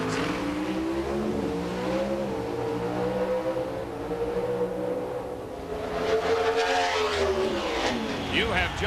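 Pro Stock drag cars at the 1995 NHRA Autolite Nationals launch down the strip, with loud, layered engine roars rising and falling in pitch as they accelerate, heard under excited trackside commentary.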